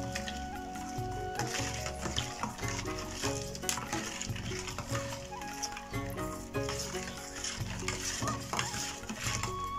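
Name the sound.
stirring Ugadi pachadi until jaggery melts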